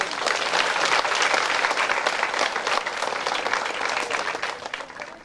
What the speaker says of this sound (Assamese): সকলোকে হাত চাপৰি মাৰি আমি অভিনন্দন জনাব